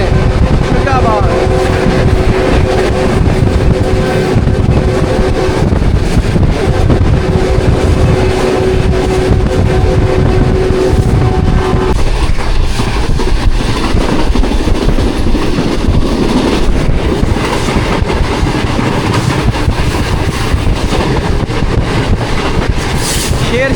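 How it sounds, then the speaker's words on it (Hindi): The Pak Business Express runs at full speed through Shujabad, a loud continuous rumble of wheels and carriages with rhythmic clatter throughout, heard from on board with faint voices at times. "शुजाबाद से थ्रू पास हो रही है ट्रेन फुल फ्लो में"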